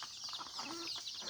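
Free-range Parawakan cross hens, mixed with Labuyo Bantam and Manok Tagalog birds, clucking softly in a short run of calls, one drawn-out note standing out over faint outdoor background.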